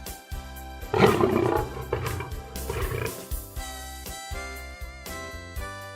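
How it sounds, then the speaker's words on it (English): A lion roars in a children's animal cartoon, a rough, rolling growl that swells early and then pulses in shorter bursts over bright background music. "A lion lives in a den."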